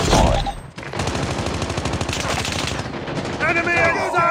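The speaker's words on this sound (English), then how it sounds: "Sentry gun deployed." An automated sentry gun in Call of Duty Mobile fires long rapid bursts, loud and close, with a brief pause before the stream of shots resumes.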